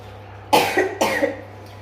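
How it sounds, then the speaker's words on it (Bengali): A person with a cold gives two close, sharp coughs about half a second apart, each followed by a short rasping tail, over a low steady hum. "একটু ঠান্ডা লেগে গেছে, আমারও মানে একটু একটু কাশিও হচ্ছে"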